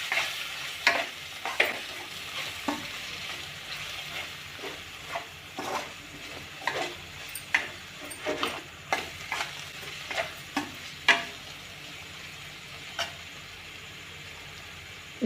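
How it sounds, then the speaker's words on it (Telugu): Mushroom masala with coriander powder and garam masala fries in a pan, a steady close sizzle broken by sharp scraping strokes of a spoon stirring at an irregular pace, with no voices. "ధనియాల పొడి, గరం మసాలా వేసి బాగా వేయించుకోండి."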